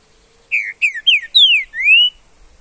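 A green-winged saltator sings a loud, close series of five clear whistled phrases outdoors in the bush, each a rising or falling note, alone with no voices.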